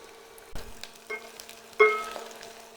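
Onion softening in a hot pan for a green chickpea pulao, a faint low sizzle broken by a few sharp utensil clinks against the pan, with no talking.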